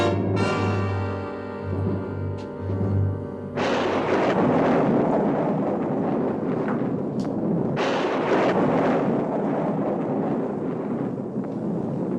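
A storm rages with heavy thunder and wind: after a few seconds of tonal music, a loud, continuous rumbling roar takes over and keeps surging and booming without pause.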